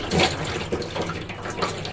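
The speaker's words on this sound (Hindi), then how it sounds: "अब इसका सारा पानी हम निकाल देंगे।" Water poured out of a clay matka pot after it has been soaked for a day, a close, steady gush and splash of liquid that fluctuates in strength, with no voices over it.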